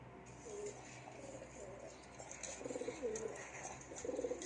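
A grey pigeon coos in a few low, rolling phrases, faint and somewhat distant, amid background murmur.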